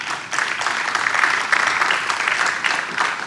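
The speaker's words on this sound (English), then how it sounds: "Ladies and gentlemen, please welcome them with another huge round of applause to our whole panel." A conference audience gives a panel of industry leaders a sustained round of applause, dense and steady clapping filling the room for the whole stretch without letting up.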